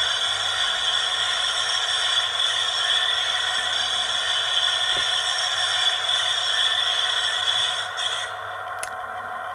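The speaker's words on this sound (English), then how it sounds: "Flange squeal." A wheel flange squeal effect from an HM|DCC model train sound decoder: a sustained, high, tonal metallic squeal holds steady over an engine hum, then eases slightly near the end.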